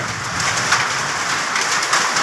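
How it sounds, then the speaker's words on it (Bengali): Hail falling heavily in an early-morning hailstorm, a dense continuous rattling hiss of stones striking surfaces, steady and loud throughout with no voices. "প্রচুর শিলাবৃষ্টি হচ্ছে প্রচুর শিলা পড়তেছে"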